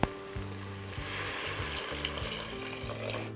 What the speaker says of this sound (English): let's add the rest of the water.